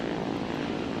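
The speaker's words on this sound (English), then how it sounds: "I look above me and I see three ominous looking planes coming up behind me." Propeller aircraft engines drone in War Thunder simulator battles, with a Yak-1B and other fighters over Stalingrad giving a continuous, even roar that fills the short stretch without any pauses.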